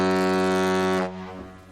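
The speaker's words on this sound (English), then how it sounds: "one of those portable maritime air horns and blast it in his face" Portable maritime air horn letting out a single loud, sustained blast of about a second, which then cuts off abruptly and leaves a brief echoing tail.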